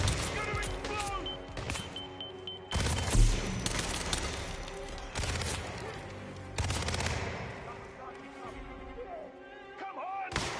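Sharp bursts of automatic gunfire in the video game Hitman: World of Assassination, several loud clustered volleys separated by short pauses, with voices shouting during the fighting.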